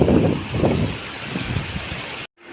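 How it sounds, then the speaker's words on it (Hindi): Fast-flowing rainwater stream during rain in Naliya, Kutch, a broad rushing wash of water mixed with wind buffeting on the microphone, steady and close, then cutting off abruptly near the end. "कितना तेज पानी जा रहा है।"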